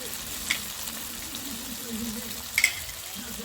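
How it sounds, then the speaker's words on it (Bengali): Poppy seed and cashew paste go into a hot pan for aloo posto, bringing a continuous close sizzle with a few small pops and splutters, and a faint voice in the background. "এইবার দেবো পোস্ত বাটা কাজু বাটা আর"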